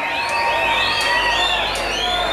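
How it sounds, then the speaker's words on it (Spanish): Audience at a live Latin concert cheering and shouting loudly, with whoops and high-pitched voices filling the room. The crowd noise is dense and continuous, while scattered clapping comes through beneath it. "Un aplauso, más fuerte el aplauso."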